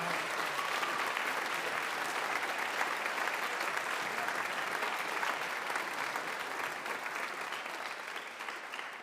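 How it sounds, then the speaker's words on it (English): Auditorium audience at a band gathering giving a round of applause for the venue staff, a steady, even wash of many hands clapping at a distance, fairly quiet and sustained, easing slightly near the end. "So can we please have a big round of applause for all the auditorium staff guys and gals?"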